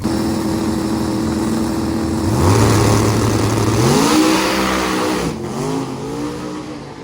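Loud six-second drag race cars roar and rev up at a drag week event, pitch sweeping upward as they accelerate hard, steady and close throughout.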